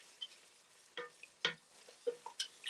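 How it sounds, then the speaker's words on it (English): Spoon scraping through a pot of thickening Alfredo sauce, a few separate soft scrapes and clinks at an irregular pace, quiet and close, with no talking. "Keep stirring. It's giving me a little resistance here."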